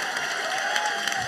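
Audience clapping and light cheering at a live video game tournament stage event, a steady broad wash of applause from a crowd, moderately loud throughout with no clear talk.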